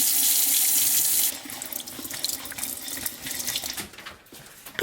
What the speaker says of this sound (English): Let's give it a few rinses.